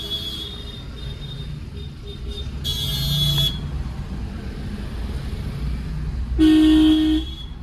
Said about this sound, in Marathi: ट्रॅफिक एवढं जाम आहे की मापाच्या बाहेर